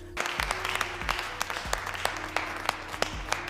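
Crowd applause in a film jail scene, many hands clapping steadily and fairly loudly, with a few sharper individual claps standing out over a low hum.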